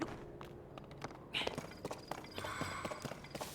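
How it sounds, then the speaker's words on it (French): Horse hooves clip-clop at a steady walking pace in the open world of Zelda: Tears of the Kingdom, moderately close, with soft game ambience underneath and no talking. "Oh, il y a un cheval. Des chevaux."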